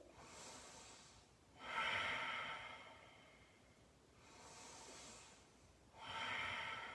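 Deep breathing during a vinyasa yoga practice: slow, soft inhales and exhales in a steady rhythm, close and quiet, with two fuller breaths standing out.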